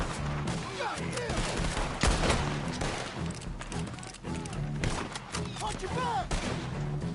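Rapid bursts of gunfire crack and echo through a Red Dead Redemption 2 shootout, shots overlapping in dense, uneven volleys mixed with crashes and shouted voices.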